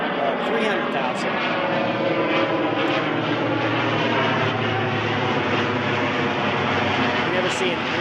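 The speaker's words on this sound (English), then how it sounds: "There's an airplane going over." An airplane passing over Reykjavik, Iceland: a continuous, loud engine drone with a steady tone and no clear rise or fade.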